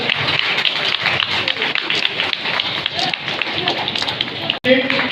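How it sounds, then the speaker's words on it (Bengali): Applause from the audience at a postal department meeting on women's empowerment, a loud, continuous patter of many hands with voices mixed in, ending in a brief cutoff. "করতালি দেবেন"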